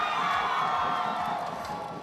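A crowd at the SMX Convention Center cheering and shouting during an esports playoff event, a loud, sustained roar of voices that fades slightly toward the end.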